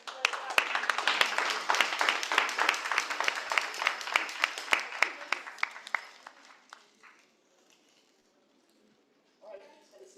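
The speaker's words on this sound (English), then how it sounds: "Let's give a clap, please" Audience applause for a contestant at a Toastmasters humorous and table topics contest, a burst of many hands clapping fairly close that thins out and fades to silence after about six seconds, followed by a brief voice near the end.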